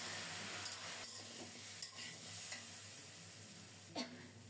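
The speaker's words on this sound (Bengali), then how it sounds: "এবার চুলার তাপটা একটু বাড়িয়ে দিয়ে মশলা সহ পঞ্চমুখীটা কিছুক্ষণ কষিয়ে নেব।" Panchmukhi spice mix, taro stolons cooked with spices, fries in a pan over raised heat, a soft steady sizzle with a few faint stirring scrapes.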